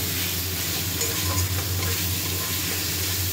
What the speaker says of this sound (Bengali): কষে নিচ্ছি